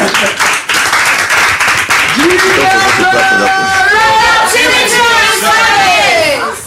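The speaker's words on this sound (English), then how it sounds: "Now they will clap for me." An audience at a staged party event, gathered for the introduction of party members and a presidential candidate, claps in a loud burst that fills the room, with crowd voices and cheering mixed in throughout.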